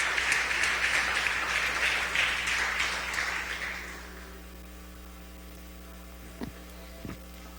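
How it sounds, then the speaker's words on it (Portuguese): A church congregation claps together after a sermon, a dense burst of applause lasting about four seconds before it dies away, leaving a steady electrical hum and a couple of soft knocks. "vamos aplaudir ao Senhor pela sua palavra?"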